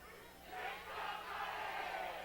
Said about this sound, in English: we got some cheering going down in front of us